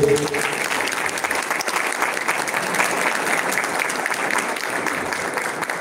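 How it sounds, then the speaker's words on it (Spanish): Strong audience applause at a provincial education congress welcoming a speaker to the stage, a continuous, even wash of clapping from a large crowd that stays steady throughout. "Recibimos con un fuerte aplauso a la disertante"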